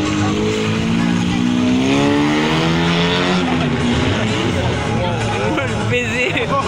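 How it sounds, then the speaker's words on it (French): A stunt car accelerating hard on two wheels, a loud engine that climbs steadily in pitch before revving and wavering, with crowd noise and an announcer's voice over it. "Alexandre, lui, va nous présenter sa spécialité, un passage en pleine accélération."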